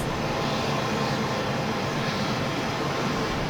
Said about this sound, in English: bring up our power here a little bit. Those engines stabilize. Got a good sound right there.